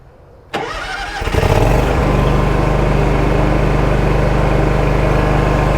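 A John Deere Z740R ZTrak zero-turn mower engine cranks after a click, catches within a second, and settles into a loud, steady idle close by.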